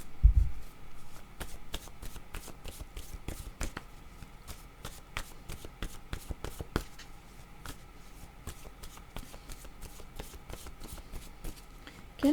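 Oracle word cards are shuffled by hand in a long run of quick, crisp riffling flicks and slaps, close and moderately quiet, with no talking.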